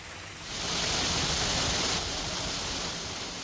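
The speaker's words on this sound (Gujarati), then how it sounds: "ઘેટી, સોનપુરી, વડાડ, કદમગીરી સહિતના ગામોમાં પણ આજે વરસાદ પડ્યો છે।" Monsoon rain falls steadily over villages near Palitana in Bhavnagar, Gujarat, a dense even hiss that swells after a brief lead-in and holds alone without voices.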